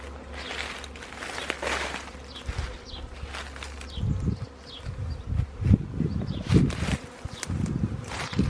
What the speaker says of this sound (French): nous avons ici un premier essaim qui est sorti de la ruche